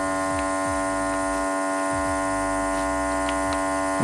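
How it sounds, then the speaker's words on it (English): An Artence vacuum sealer machine draws the air out of a bag on its moist setting, a steady, loud motor hum with a buzzing electric drone that holds unchanged throughout, with faint low clicks beneath. "Alright, so you see that's pretty much vacuuming the product inside, and it should turn off by itself."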